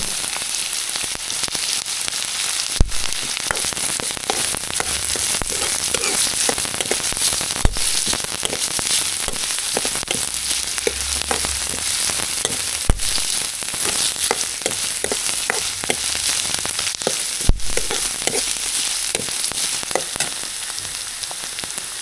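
Capsicum and carrot fry in a hot pan for veg Maggi with a loud, constant sizzle and crackle, broken by occasional sharp clacks of a spoon or lid against the pan.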